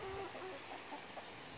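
Backyard chickens, including roosters and hens, cluck softly in short scattered calls, faint and somewhat distant under a broad wash of outdoor noise.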